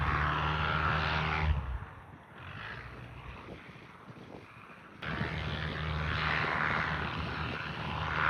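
A propeller aircraft revs on a grass field at Hohenlockstedt after an emergency landing. The engine drone is loud and broadband, dips to a quieter, gustier stretch midway, then swells back to a steady roar with wind buffeting.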